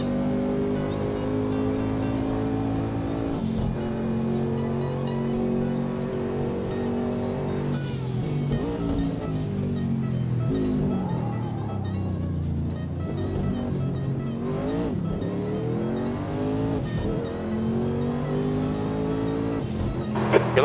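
A Group C race car in a racing game at Monza howls loudly and steadily, its engine note rising and falling through gear changes and chicanes, with wheel spin on the exit of a chicane.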